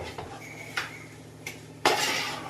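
A spoon clanks and scrapes inside a pot as chicken biryani is mixed, a few sharp knocks close by with a steady low hum behind.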